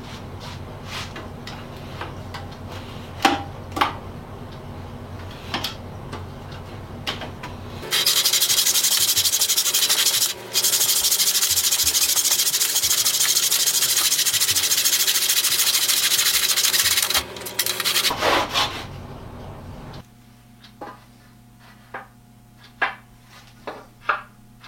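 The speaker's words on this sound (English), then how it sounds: "Miter box is a cool piece of equipment. It lets me cut left-handed and cut a straight line." A hand saw in a miter box trims the end of a wooden piece, giving a steady rasping stroke sound that runs continuously for about ten seconds, preceded and followed by lighter ticks and taps of handling.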